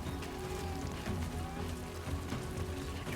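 Steady video game rain patters evenly across the whole stretch, a soft, continuous hiss of drops on a surface at low volume, with a faint low hum underneath and no voices.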